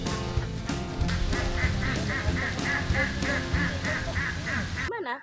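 Laying ducks on a rural village farm quack loudly and continuously, a dense chorus of overlapping calls close by, cutting off abruptly near the end.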